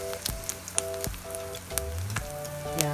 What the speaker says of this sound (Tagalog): magigisa na tayo ng bawang para sa ginisang talong natin